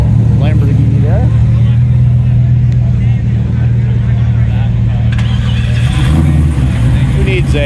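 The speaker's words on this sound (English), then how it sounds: "Let's let this one come on in. Car's always coming in. There you go. Beautiful Lamborghini there." A Lamborghini rolls in at a Cars and Coffee meet in Naples, Florida, its engine a loud, steady low drone close by with a brief rise near the end, while someone talks over it.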